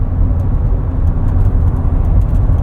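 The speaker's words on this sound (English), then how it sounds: "gear changes from this 8-speed transmission, and a little bit of electric motor noise" A 2024 Porsche Cayenne E-Hybrid with an 8-speed transmission and electric motor driving on the road, a steady low cabin rumble of engine and road noise, loud and even throughout with no talking.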